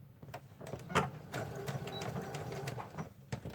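A sewing machine stitching a leather wallet insert with a tight stitch, running in a steady fast mechanical patter with a few louder clicks, close and moderately quiet.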